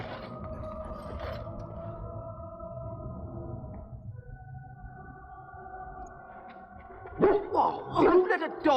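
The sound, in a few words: dog barking in the video game Dragon Age: Origins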